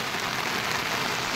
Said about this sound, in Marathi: तेवढाच पाऊस आला